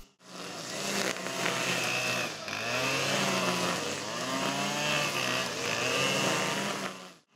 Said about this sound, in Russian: Шум газонокосилок и запах свежескошенной травы.